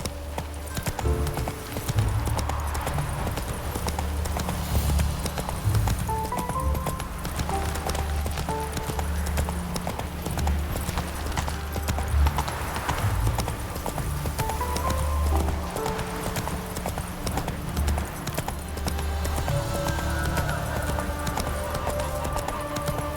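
Galloping hoofbeats from the horse Roach in The Witcher 3 video game, a steady rhythmic clip-clop that runs throughout with occasional faint snorts or whinnies.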